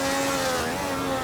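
A Lotus Formula 1 car engine in an F1 Legends racing video game holds a steady, loud, high-pitched drone with a continuous buzzing tone throughout.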